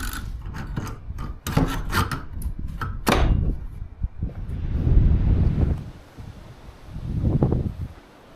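Scraper rasping stuck grass off a lawn mower outdoors: several sharp scrapes and knocks at first, then longer rough rubbing strokes with wind noise around them.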